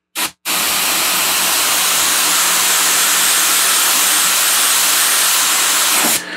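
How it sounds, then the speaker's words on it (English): Army Painter paint hissing steadily through an airbrush for about six seconds, a loud continuous broadband spray with a brief pause near the start, aimed into a box used as a spray guard. "when you're airbrushing, start your airflow, then pull back on your paint"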